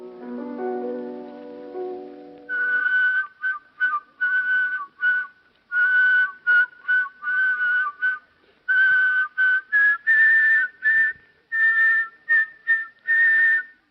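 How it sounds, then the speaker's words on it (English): A single performer whistles two melodies in counterpoint, an intricate tune in quick, detached phrases, clear and close, following a short low-pitched musical introduction. "whistle 2 different melodies at the same time"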